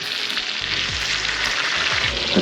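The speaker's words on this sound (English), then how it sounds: "a real fast, hot sear in butter right here with the steaks" Steaks searing in hot butter in a pan, a loud continuous hissing sizzle with occasional low thuds and scrapes as the meat is handled, no voices.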